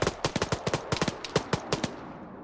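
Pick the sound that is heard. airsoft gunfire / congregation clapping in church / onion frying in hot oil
airsoft gunfire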